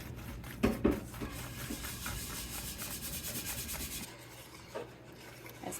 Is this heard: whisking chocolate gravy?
yes